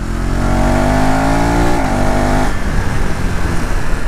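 A 2025 KTM Adventure 390X motorcycle engine runs loud and close while riding, its revs climbing steadily, then dropping sharply at a gear shift before settling into a rougher, lower drone with continuous wind noise.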